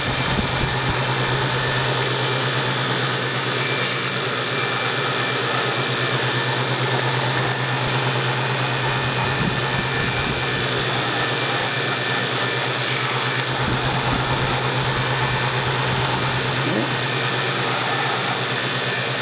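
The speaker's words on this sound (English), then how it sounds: "One working sander unit." An electric sander runs steadily and loudly for the whole stretch, a continuous buzzing whine with a low hum underneath and no pauses or voices.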